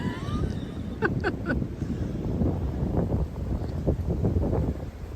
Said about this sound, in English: I don't know if you can hear the wind blowing.